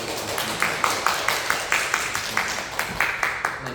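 A church congregation claps to welcome a newcomer during a Sunday service, a steady run of regular hand claps at moderate volume with no voices over it.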